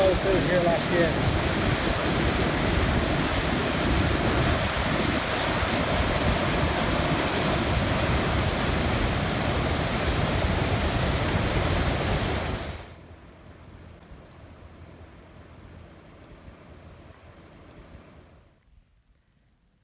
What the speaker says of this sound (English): Totally crazy standing here and watch all this water